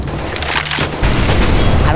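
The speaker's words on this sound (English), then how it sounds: "Throwing flashbang" A flashbang grenade goes off in a video game, a loud, dense blast of noise that swells partway through and fills the whole two seconds, with a player's voice mixed in.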